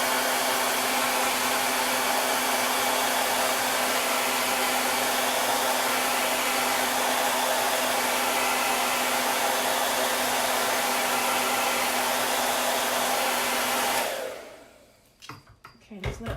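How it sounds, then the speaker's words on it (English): A blow dryer blasts continuously at close range while drying a vinyl transfer on a hat, then cuts off abruptly with some handling noise afterward. "I'm gonna hit that with a blow dryer just to make sure it's starting to dry a little bit"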